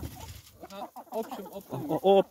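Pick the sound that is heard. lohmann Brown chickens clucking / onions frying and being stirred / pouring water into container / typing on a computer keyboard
lohmann Brown chickens clucking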